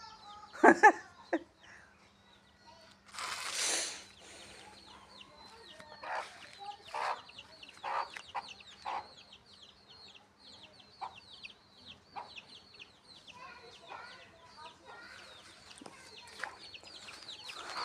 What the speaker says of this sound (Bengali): খুব সুন্দর দেশি মুরগি এই যে এখানে আছে বাচ্চা সহকারে দেশি মুরগি